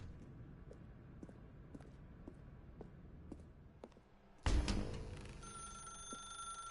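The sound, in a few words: telephone ringing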